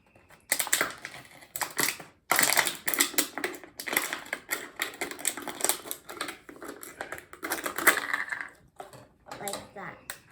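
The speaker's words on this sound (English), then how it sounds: "you're going to grab your scissors and your plastic bottle and you're going to cut it" Scissors cutting through a plastic water bottle, giving a run of crunchy, crackling snips and crinkles that sit close and fairly loud, with brief pauses between cuts and no talking over them.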